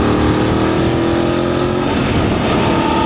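A Voge 900 motorcycle pulls hard in fourth gear in sports mode, its engine note loud and close, rising steadily as the bike gathers speed with wind noise running underneath.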